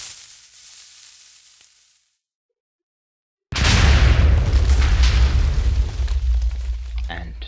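A loud Minecraft explosion hits suddenly after a brief silence, then a heavy rumbling, crackling blast sustains to the end, following a softer, fading ambient sound at the start.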